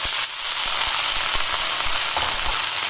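Water splashed onto a hot nonstick tawa greased with ghee sizzles loudly and steadily, a dense hiss with scattered crackles and pops throughout, close up with no voices.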